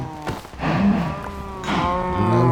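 A cow in a blocky survival video game lets out two drawn-out lowing moos while being attacked, the second rising louder, with no talking over it.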